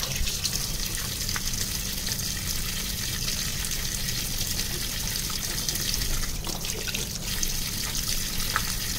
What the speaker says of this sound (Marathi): खवलं काढल्यावर आहे ना त्याला धुवून घ्यायचं आहे